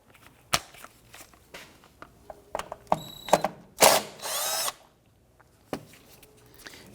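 A power tool loosens and removes a 10mm bracket bolt during a front CV axle job on a 2017-2020 Hyundai Elantra 2.0L, heard as short buzzing bursts and clicks with one longer sustained whir in the middle.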